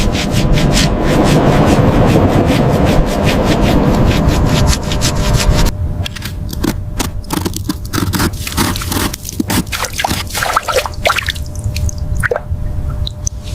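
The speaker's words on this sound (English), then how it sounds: "Scrubbing salt from the wheel." A brush scrubs salt crust from the wheel of a 1970 Dodge Charger R/T recovered from the sea, starting as a dense, continuous rasp, then breaking into separate sharp strokes with wet drips.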